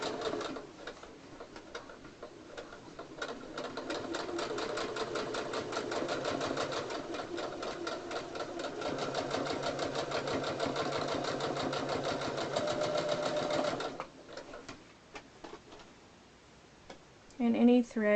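A sewing machine stitches a bulky tea towel pillow in a steady, fast, even run of needle clatter for about fourteen seconds, then stops, followed by quiet handling and a few brief knocks.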